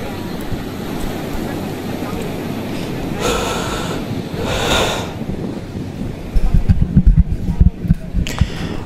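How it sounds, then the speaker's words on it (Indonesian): Big ocean waves surge and wash ashore at Tanah Lot, Bali, under a constant roar of strong wind, with heavier rumbling gusts buffeting near the end. "Ombaknya sebenarnya cukup lumayan besar, terutama ketika angin yang berhembus ini cukup kencang juga di sini."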